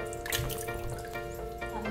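Cut broiler chicken pieces being rinsed under running water in a kitchen sink, a steady close trickle and splash with faint drips, no talking.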